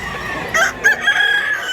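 A rooster, a young bullstag, crows loudly and close by in a short burst of two or three rising calls, with no talk over it.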